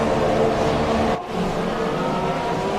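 F1 race car engine in a racing video game on the Japanese Grand Prix circuit, a loud sustained high-pitched engine whine with a brief dip and gear-change break midway before climbing again.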